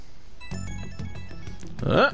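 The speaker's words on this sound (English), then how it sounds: "Phone's blowing up." A phone ringtone in a video game where a chef's curry and Shido's Palace feature, a short repeating electronic melody of steady tones running for about two seconds and ending in a brighter, louder swell.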